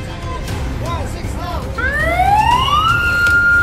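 A Bureau of Fire Protection fire truck siren rising in a sweeping wail and then holding a high steady tone, loud and close, over road and wind noise, after a few short warbling yelps.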